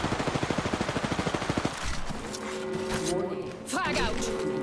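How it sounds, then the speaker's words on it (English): Rapid machine-gun bursts from enemies in a video game rattle loudly in a fast regular rhythm, then give way to scattered shots and game effects while a player talks excitedly over them. "Oh, whoa, they're shooting at me."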